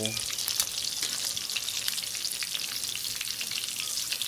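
Pork belly crackles steadily in hot oil over low gas heat for crispy pork, a dense continuous sizzle with scattered sharp pops and spits, close and fairly loud throughout with no voices.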